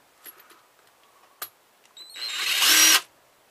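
A few faint taps, then a power drill whirs up for about a second, close and fairly loud, before stopping abruptly, while making a brass plug.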